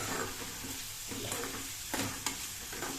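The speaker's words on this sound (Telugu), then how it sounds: "ఉల్లిపాయ ముక్కలు పచ్చిమిర్చి టమాటాలు తొందరగా వేగుతాయి" Chopped onions, green chillies and tomatoes fry with salt in a pan for upma, a dense continuous sizzle with occasional scraping strokes of a spoon stirring through the mixture.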